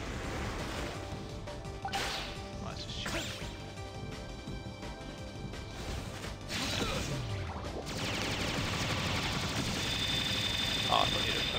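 Gunfire in the Wii game Rodea the Sky Soldier: sharp cracking shots and whip-like hits sit within a dense, steady wash of game music and effects. Voices talk throughout.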